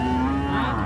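A single cow moos loudly and close by at a busy weekly cattle market in Mymensingh, a steady sustained low call filling the short moment with no other sound over it.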